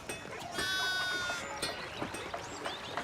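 Sheep bleat in the medieval video game Pentiment, with several wavering calls over a busy background and no speech.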